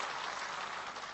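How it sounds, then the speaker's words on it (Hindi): Brief, faint, dense clapping from an audience at a Hindi poetry recital, a steady patter of many hands with no voices. "एक बार जोरदार तालियां इस पंक्ति के लिए"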